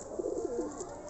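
Blue Kamagar pigeons cooing nearby, a soft, rolling series of low, throaty coos over faint background noise.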